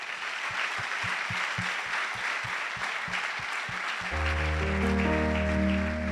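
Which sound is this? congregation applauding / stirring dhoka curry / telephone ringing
congregation applauding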